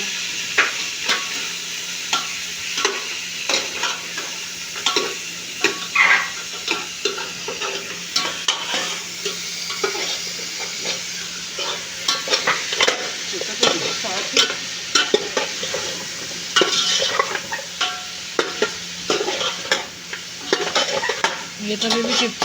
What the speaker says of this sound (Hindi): फ्राई करूँगी, फ्राई करके निकाल दूँगी।